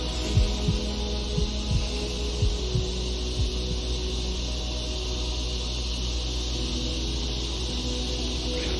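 A slow, steady heartbeat thumps low and close over a constant background hum from an air conditioner; the beats come in clear pairs early on, then fade into the drone.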